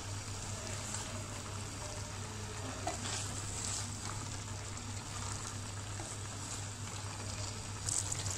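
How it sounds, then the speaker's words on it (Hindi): Spinach being stirred into palak chicken in a pan, a soft, low simmering sizzle with a steady hum beneath and occasional faint scrapes, quiet throughout. "पालक हमने ऐड कर दिया, अब हम अच्छे से मिक्स कर लेते हैं।"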